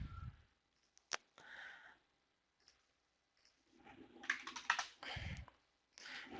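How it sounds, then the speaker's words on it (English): Someone types on a computer keyboard in a few short, separated bursts of soft key clicks, with quiet pauses between them and no talking. "And here I could just start typing."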